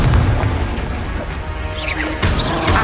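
Confringo blasting spell in Hogwarts Legacy, a series of loud crashing booms and bursts amid combat effects, with whooshing magical tones between impacts.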